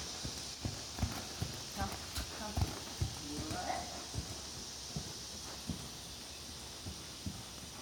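A horse trots in an arena with a regular two-beat hoof rhythm on soft footing, moderately close and steady, while a voice speaks softly in the background.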